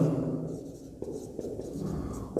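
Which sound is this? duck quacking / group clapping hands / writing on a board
writing on a board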